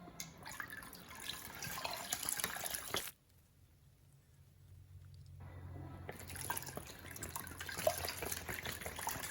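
Quiet, steady trickling of liquid with soft drips as makgeolli mash is squeezed with added water, fading out briefly in the middle before the wet sound returns.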